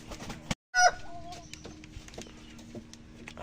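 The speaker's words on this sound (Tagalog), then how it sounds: "Check natin yung ating chicken kung may itlog na." Backyard chicken coop with a hen clucking near the nest box, brief soft clucks and calls scattered over steady low outdoor hum, fairly close.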